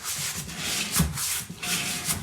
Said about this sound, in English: just by that little bit of sanding